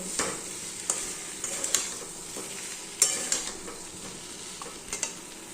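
Pumpkin and potato curry sautéing in a pan, with a low steady sizzle and a few sharp spoon scrapes and clinks scattered through, fairly quiet and close with no talk.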